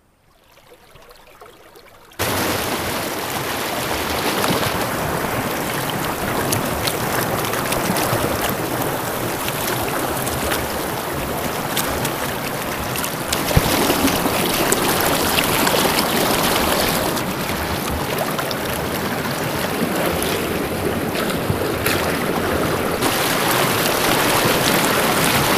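The Huntington River rushes in late winter, a continuous loud broadband wash of flowing water that starts abruptly after a quiet moment and holds steady throughout, near and unbroken.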